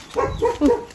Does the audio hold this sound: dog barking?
yes